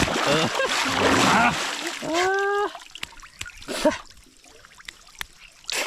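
Water splashes and sloshes nearby as someone bathes outdoors, in bursts and short spatters, with people talking in between.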